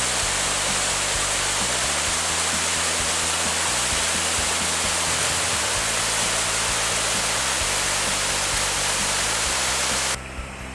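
Waterfall in Mureung Valley, a deep, clear-water granite gorge, roars as a loud, steady broadband rush of falling water close by, continuous and unbroken with no voices.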